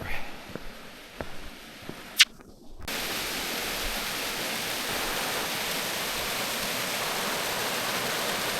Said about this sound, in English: A cute little waterfall.